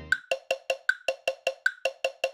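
A steady metronome clicks twelve times at an even tempo, each tick crisp and close, with every fourth beat pitched higher as an accent.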